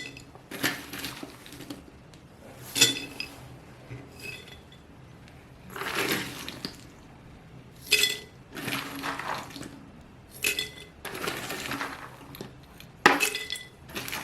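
Fried cashew nuts rattling and clinking inside a sealed glass jar, heard in several separate bursts of bright rattling with quiet pauses between them.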